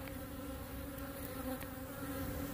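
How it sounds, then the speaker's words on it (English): Honeybees buzzing around hives in an orchard, a dense, continuous droning hum of many insects close by, steady and unbroken with no talking. "the bees have got a little bit angry for the trip"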